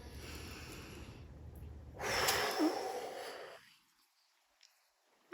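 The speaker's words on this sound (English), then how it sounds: "take a breath" A deep breath is drawn in audibly, then released in a long, clear exhale that fades into near silence, close and isolated with no speech over it.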